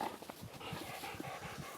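Gun dogs panting close by after being brought out on a roe buck stalking and pigeon shooting outing. Quick, rhythmic breaths run continuously with no talking.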